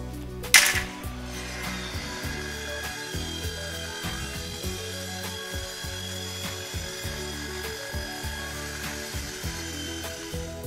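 A saw blade cuts metal frame pieces for a custom trailer, a bright squeal at the start, then a steady rhythmic rasping and ratcheting strokes continuing for several seconds, close and fairly loud.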